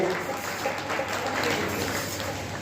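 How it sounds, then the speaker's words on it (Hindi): An audience at an Arya Samaj gathering applauding, a short, even spread of clapping heard at moderate distance over a low room hum. "जोरदार तालियां बजाकर मास्टर जी का अभिनंदन करें"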